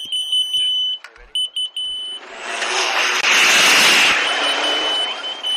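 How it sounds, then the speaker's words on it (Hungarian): High steady electronic warning bell tone on a Dakar rally motorcycle, beeping in short bursts and then holding under a loud rushing engine and wind roar that swells and fades, close and harsh. "Az egy riasztó csengőt kapcsol be a motor elején, és legalább tudatja velünk, hogy hátulról autó közeledik."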